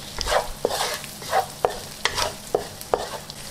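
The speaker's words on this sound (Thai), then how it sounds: "ผัดค่ะจนกว่าหอมแดงจะสุก ตามด้วยใช้โป๊ะหวานสับ2ช้อนโต๊ะ เต้าหู้แข็งหั่นเต๋า3ช้อนโต๊ะ" Shallots, chopped sweet preserved radish and diced firm tofu stir-fried in a pan for pad Thai. A spatula scrapes in regular strokes about every half second over a soft, steady sizzle, close by and with no talking.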